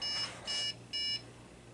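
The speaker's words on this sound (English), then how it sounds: "Oh, the beeper works." A Dell Inspiron motherboard beeper sounds three short, high electronic beeps in an even rhythm, close and clear against a quiet background.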